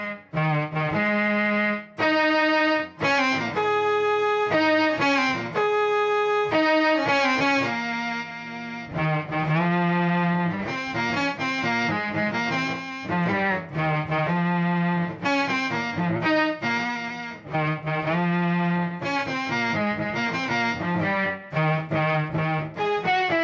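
Electric guitar run through an HX Stomp Plus with a Mel9 pedal to imitate a violin. It plays a continuous, loud melodic line with sustained, bowed-like notes and chordal swells, alone with no voices.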